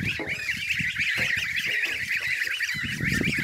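Turkeys in a pen call loudly and almost without pause, a dense, overlapping clamor of shrill gobbling and yelping that fills the whole stretch with no voices over it.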